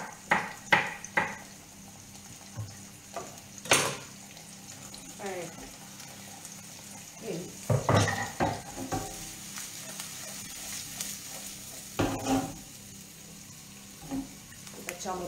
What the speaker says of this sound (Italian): Facciamo rosolare del benino.